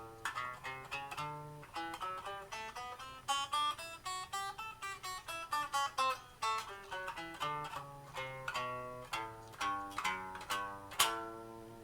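Electric guitar works through a mixed major and minor pentatonic scale in C, single plucked notes running up and back down in a steady, close, clear line with no talking.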